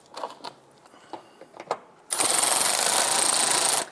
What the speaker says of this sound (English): go ahead and start probably one of the upper screws in